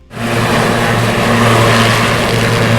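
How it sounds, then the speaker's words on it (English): Loud, steady engine drone with a throbbing rotor-like hum, sustained close up after a quick rise at the start, no voices. "our helicopter already is taking off and is already airborne"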